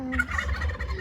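A backyard turkey gobbles among hens and chickens, the call rising over a steady low rumble of ambient noise for about a second.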